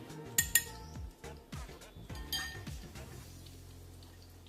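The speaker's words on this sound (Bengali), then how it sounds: "এই চামচ দিয়ে দু চামচ সর্ষে বাটা দিয়ে দিলাম" Metal spoon tapping and scraping against a pan while mustard paste goes in, several sharp clinks in a loose series followed by a low steady hum.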